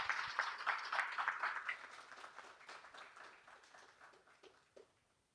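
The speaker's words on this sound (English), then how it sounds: "Round of applause." Applause from an audience at a tech event in Melbourne, loud at first with dense clapping, then thinning and fading out over several seconds.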